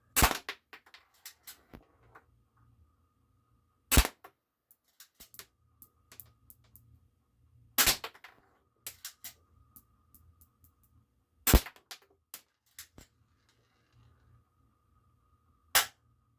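GameFace Stinger P311 spring air pistol fired four times at spaced intervals, each a sharp loud snap followed by faint clicks and ticks of cocking and handling in an otherwise quiet setting.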